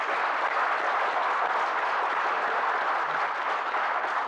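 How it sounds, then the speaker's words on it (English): An audience at the valedictory session of a conference applauds in a dense, sustained wash of clapping, steady and even throughout, with no voices above it. "I again request you to give us a round of applause."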